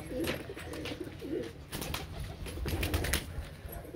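Pigeons coo softly and repeatedly, close by, with rustling and a few wing flaps mixed in.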